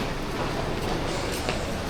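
A passenger train in Vietnam fills the space with a steady, close rumble and broad roar, with faint clicks from the rails and no clear talking.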